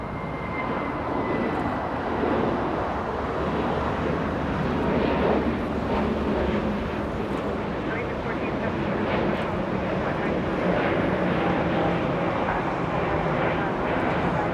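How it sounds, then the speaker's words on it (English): A United Boeing 757-200 bound for San Francisco taxis at LAX with a steady, loud jet engine roar that holds throughout, broad and continuous, with some wind noise on the microphone. "United 2611 heading to San Francisco, a 757-200 entering taxiway Lima"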